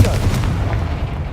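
Confringo fire spell from Hogwarts Legacy, a blast with a heavy booming low end that rolls on steadily, loud and continuous through the short moment with no voices.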